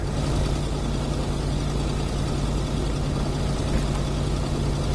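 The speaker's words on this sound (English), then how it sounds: "Let's go back out here with this loud ass truck." A truck engine idles loudly on a freezing-cold night in the video game Kona, holding a steady, low, heavy rumble with a constant hum and no break, close and alone.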